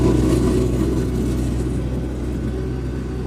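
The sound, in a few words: Kartar 3500 harvester tractor engine running, moving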